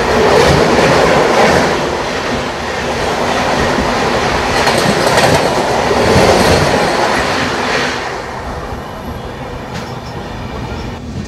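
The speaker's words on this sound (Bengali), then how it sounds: "এখন সামনে থেকে আসতেছে 12041 হাওড়া নিউ জলপাইগুড়ি শতাব্দী এক্সপ্রেস।" The 12041 Howrah–New Jalpaiguri Shatabdi Express rushes past close by, a loud steady roar of wheels and rushing air with rhythmic clatter that holds for several seconds and eases slightly near the end.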